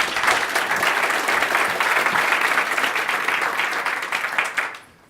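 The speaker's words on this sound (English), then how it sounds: "So let's give him a big round of applause." A conference audience gives a big round of applause, loud dense clapping from many hands that holds steady for several seconds and then tapers quickly into quiet.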